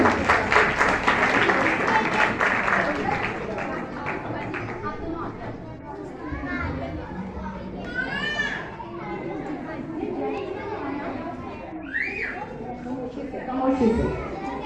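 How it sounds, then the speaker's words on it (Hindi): At a church gathering, a crowd gives a short round of applause for children, clapping loudest at first and fading into lively children's chatter and voices nearby. "जोरदार तालियां बच्चों के लिए हम बजाएंगे।"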